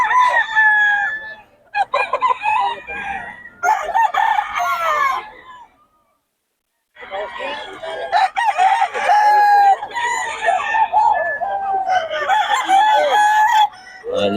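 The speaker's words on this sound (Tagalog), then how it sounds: "Oh, solid mga manok ng Boss Batang." Several fighting roosters at a cockfighting venue in Bocaue crow loudly and close by, their calls overlapping in long bursts, with one brief pause of silence partway through.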